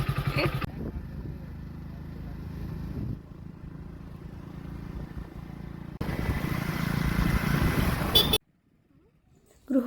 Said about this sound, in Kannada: ಬೈಕ್ ತೆಗೆದ್ರು ಹೋಗ್ತಾ ಇದ್ದೀವಿ